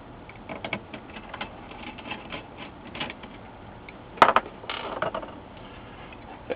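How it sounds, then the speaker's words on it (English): A screwdriver works Phillips screws out of the metal shield cover on a Dell 1905fpv/1907fpv monitor, making faint, rapid ratcheting clicks, then a brief cluster of louder metallic clicks near the end. "There's a metal shield cover held in place with two more Phillips screws here."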